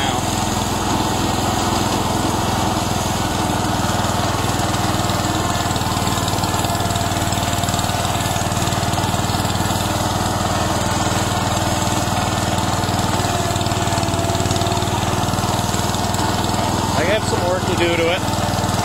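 A John Deere 120 lawn tractor engine drones steadily and loudly at close range for the whole stretch, a constant buzzing hum without pauses.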